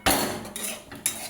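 A metal spoon scraping and clinking against a pan while chicken rezala is stirred, three sharp strokes in quick succession, close and fairly loud.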